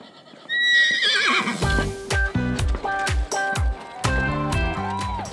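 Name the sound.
horses neighing at cowboy mounted shooting competition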